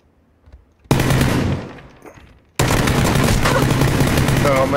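Automatic gunfire sprayed in PUBG: a near, loud burst of rapid shots, a decaying tail, then a second sustained burst of continuous fire that runs to the end.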